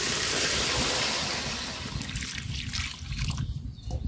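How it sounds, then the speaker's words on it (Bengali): Water pours into a curry pot of spiced potatoes, a steady loud trickling gush that tapers off after about two seconds into quieter bubbling and sizzling. "ঝোলের পানি দিয়ে দিলাম।"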